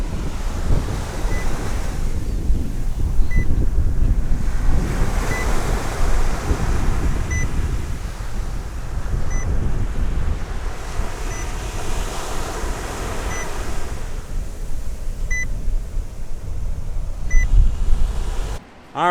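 Ocean waves wash onto the rocky shore at Acadia National Park, a steady near roar of surf with gusty wind buffeting the microphone and no talking.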